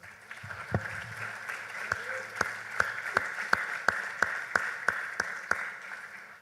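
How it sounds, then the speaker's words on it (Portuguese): Members of a church congregation clap in a steady, regular rhythm, one sharp beat about every 0.3 seconds, with a soft murmur of room noise underneath and no one speaking over it. "Vamos aplaudir para essa palavra."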